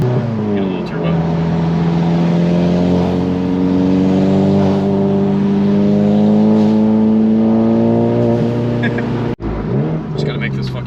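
A tuned, turbocharged VW Golf MK7 accelerates hard through its gears from inside the cabin, the engine note climbing in long steady pulls, with a brief shift break before speeding up again.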